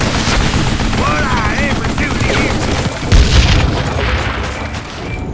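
Rapid gunfire from a Wild West shooter game, Call of Juarez Gunslinger, rattles in loud, dense bursts that fill the clip, with a voice talking over the shots.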